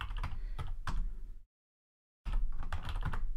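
Rapid typing on a computer keyboard while entering commands, dense clicking keystrokes close up, broken by a brief silent gap before the typing resumes.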